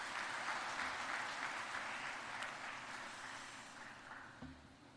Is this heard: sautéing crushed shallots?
no